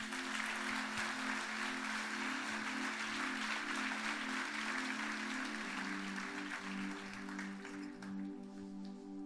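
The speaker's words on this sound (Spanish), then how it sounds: "Denle un aplauso a Jesús" A church congregation claps steadily and densely for several seconds, with a sustained organ or keyboard chord underneath; no clear speech over it.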